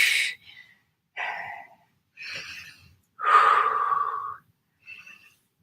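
Forceful breaths during a low-impact resistance band workout, five separate puffs of air with short pauses between them, the fourth longest and loudest, close to the mic.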